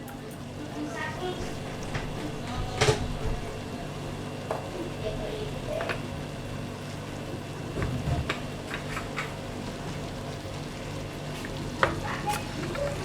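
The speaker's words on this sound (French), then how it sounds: "Là je mélange." Rice with onions stirred in a pan, a low steady sizzle with intermittent scraping and tapping of the utensil, a voice speaking at times over it.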